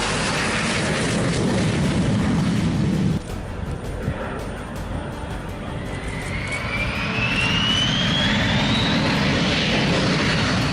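Jet aircraft roar loudly past at a North Korean airshow, a sustained engine rumble with a rising whine that sweeps upward as the planes pass close by, no talking.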